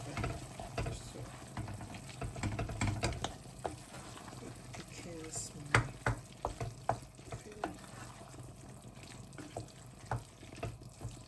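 Flour-and-water slurry being stirred into meat pie filling in a pot, with a spoon scraping and clinking in irregular strokes over a steady sizzle and watery sounds.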